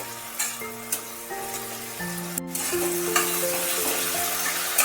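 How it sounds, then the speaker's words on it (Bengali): Potatoes sautéing with spices in a pan, sizzling and frying with occasional stirring clinks, a steady close crackle throughout; nobody speaks. "আমি সেই জন্য এর মধ্যেই একেবারে মশলা দিয়ে একটু কষিয়ে নিচ্ছি।"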